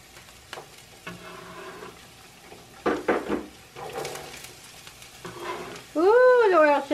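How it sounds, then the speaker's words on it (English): Food frying in hot oil, sizzling and popping in a pan, with brief voices and exclamations breaking in over the crackle. "Ooh, the oil sizzles, it pops."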